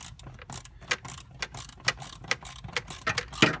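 A ratchet tightens a nut on the ground connection of a fuse block in a Sprinter van's electrical harness, giving a quiet, close series of irregular clicks over a few seconds.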